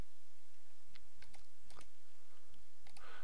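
Keys clatter on a computer keyboard as an FTP address is typed in, quick bursts of clicks in a few short runs with pauses between, close and clear over a low steady hum.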